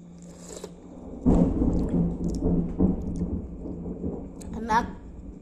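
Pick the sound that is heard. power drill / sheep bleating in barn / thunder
thunder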